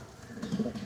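A young pigeon gives a short, soft coo close by, a low throaty burble rising briefly, with no other sounds.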